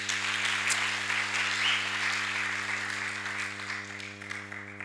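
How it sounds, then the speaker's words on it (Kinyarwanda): A church congregation applauding, a dense, sustained wash of clapping that fades slightly toward the end, heard over a steady electrical hum. "Reka dukomere Imana amashyi."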